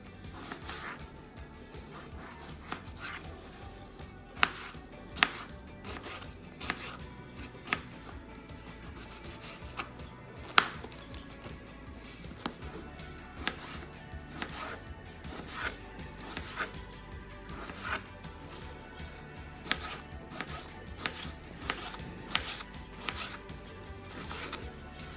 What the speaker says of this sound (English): we're gonna start off by cutting our potatoes into little slices.